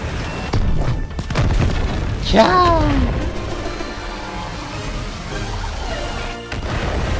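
Weapons fire in Overwatch 2's PvE mode, a heavy booming blast with crashing impacts amid busy game sounds and rapid explosions, with a voice speaking over it.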